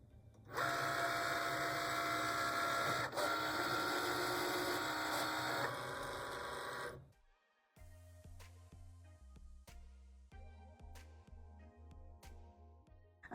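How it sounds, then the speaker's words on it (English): A Cricut cutting machine with a fine point blade works through material, first in a long, steady whirring run, then in a quieter passage of short stepped motor movements and faint clicks. "I'll let my Cricut cut this out"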